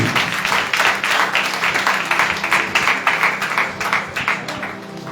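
A church congregation applauds for the Lord, a dense, fairly close burst of many hands clapping with uneven rhythm that continues without a break for several seconds, with a faint voice or two mixed in.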